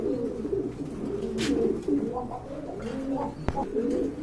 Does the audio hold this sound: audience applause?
no